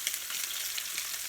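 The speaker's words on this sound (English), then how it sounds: "I just want to make sure you can hear me over the sizzle sizzle" Chicken thighs fry in a pan with garlic butter, giving a steady bright crackling sizzle, close and continuous, with no voices.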